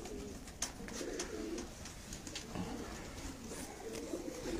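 Pigeons cooing steadily on a rooftop, soft repeated low coos at moderate distance over a faint outdoor background.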